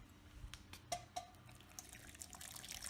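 Hot water is poured into a ration meal pack, a faint trickle and splash with a few brief drips, close and quiet in a still room.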